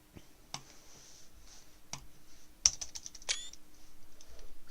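Typing on a computer keyboard during a gaming stream, with scattered clicks and short bursts of keystrokes at close range, fairly faint, and no talk.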